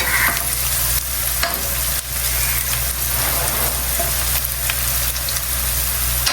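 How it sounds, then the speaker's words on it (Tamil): Garlic chicken frying in a pan, a loud, dense, continuous sizzle heard up close, with brief pauses and scraping stirs as the pieces are turned. "இதையும் சேர்த்து நல்லா ஃப்ரை பண்ணிக்கணும் நல்லா கோல்டன் ப்ரௌன் ஆகி"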